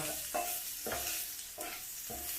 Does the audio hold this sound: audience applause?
no